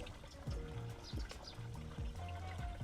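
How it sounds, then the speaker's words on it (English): Cup dipping into a hydroponic tank and scooping water, several soft sloshing pours and trickles close by, repeating in irregular bursts at low volume. "I'm gonna dip some water"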